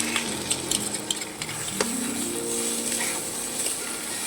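Egg and potato fry in a pan with a steady close sizzle and hiss, broken by a few light stirring scrapes and utensil clicks, no talking.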